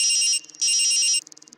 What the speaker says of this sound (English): Phone rings from the payphone.